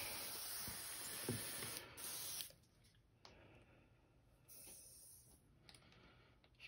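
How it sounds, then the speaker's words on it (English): An airbrush being sprayed clean gives a steady hiss up close that cuts off and restarts in short bursts, fading to quieter spraying between them. "Clean this out of my airbrush real quick."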